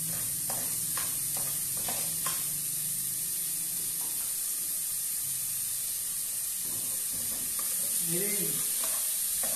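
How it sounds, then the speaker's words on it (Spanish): Chopped onion and garlic sauté in hot oil in a pan for a rice dish. A loud, steady sizzle and hiss runs throughout, with occasional stirring clicks, and a voice briefly speaks. "ese olor de la cebolla y el ajo cuando se están sofriendo"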